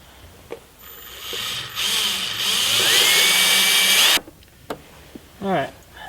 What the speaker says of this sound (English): and I'll drill them out.